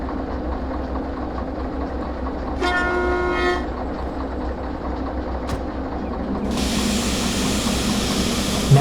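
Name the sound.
train being shunted, Derail Valley video game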